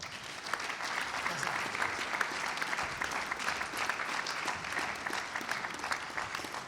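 An audience at a piano gala concert for an international piano competition in Friuli Venezia Giulia applauds steadily, a dense wash of clapping held at an even level throughout.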